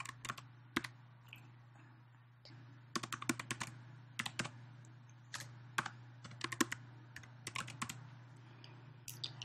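Keys clacking on a computer keyboard as an email address is typed at a hospital sign-in screen, in quick irregular bursts of close, crisp taps over a steady low hum, with no talking.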